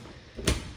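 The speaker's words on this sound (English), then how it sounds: "This is a pocket door" A kitchen pocket door slides once in a quick, soft whoosh that ends in a brief thud, close by in a quiet room.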